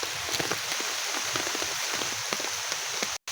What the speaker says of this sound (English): Hi guys, it's heavy rain now.